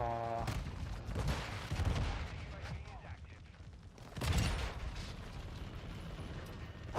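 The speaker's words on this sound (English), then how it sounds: "These fucking big missiles drops from the air out of nowhere." Missiles dropping from the air in the Modern Warfare 2 video game, a rumbling barrage of explosions and gunfire that swells, fades, then erupts again, faint in the mix.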